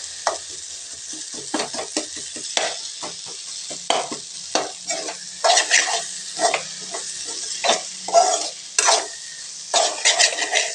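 Boneless goat head meat frying in oil, with a steady sizzle broken by repeated stirring scrapes and clinks of a utensil against the pan.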